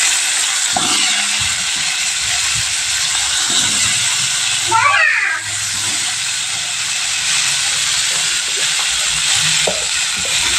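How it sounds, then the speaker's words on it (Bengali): Cauliflower frying in hot oil gives a loud, continuous hiss and sizzle up close, with a brief rustling disturbance midway and faint clatter, no talk. "তেলের মধ্যে ফুলকপিগুলো দিয়ে দিচ্ছি ভাজার জন্য।"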